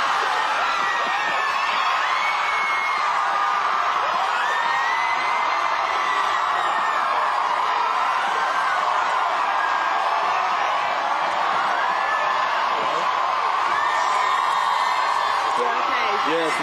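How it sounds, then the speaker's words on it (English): A massive crowd of fans cheers and whoops outside the Big Brother house, a loud, continuous roar of screams and shouts that never lets up. "massive, massive, massive crowd of fans out here"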